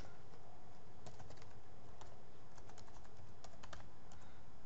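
Computer keyboard typing during database admin work in phpMyAdmin: scattered light key clicks in short bursts over a steady low room hum, fairly quiet, with no talking.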